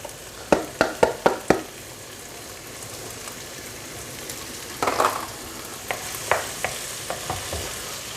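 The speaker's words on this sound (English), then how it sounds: "Put in the carrot and celery next." Diced carrot and celery drop into a hot soup pot and sizzle steadily, with a quick run of sharp clatters early on and scattered stirring scrapes and taps later, all close and moderately loud with no talking.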